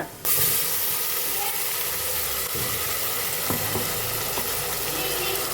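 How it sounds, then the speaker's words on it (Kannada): Ground masala paste fries in hot oil in a pan, making a loud, continuous hissing sizzle close up, with occasional knocks of stirring throughout. "ಹಾಕಿ ಚೆನ್ನಾಗಿ ಫ್ರೈ ಮಾಡ್ಕೋಬೇಕು"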